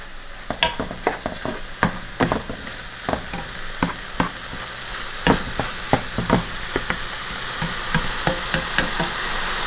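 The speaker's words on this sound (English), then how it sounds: "And let me stir this." A thickening sauce sizzles in a pan while a spoon stirs it, scraping and knocking against the pan in an uneven rhythm over a steady frying hiss that grows slightly louder, with no voices.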